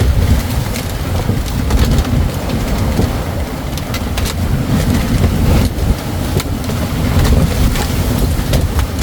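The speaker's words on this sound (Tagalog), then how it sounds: "Laki na alon, ano?" Big ocean waves and strong wind battering a fishing boat at sea in the West Philippine Sea during a squall, a dense, relentless roar of water and gusts with occasional knocks against the hull.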